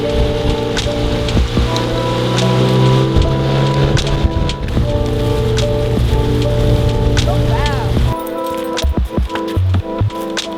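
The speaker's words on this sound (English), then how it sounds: "it's kind of raining and cruddy out there" Rain falls outside around a boat on a dreary day, a steady, dense patter lasting throughout, with a constant low hum underneath.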